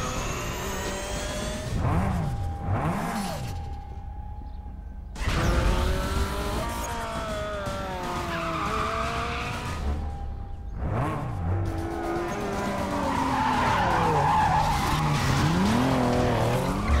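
A Toyota Supra races in Need for Speed Most Wanted, its engine whining through gear changes while tires skid and squeal repeatedly, with loud bursts of engine noise and brief quieter gaps between passes.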